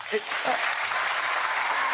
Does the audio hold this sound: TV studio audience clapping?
yes